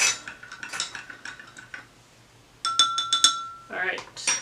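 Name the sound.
stirring salt into water in a glass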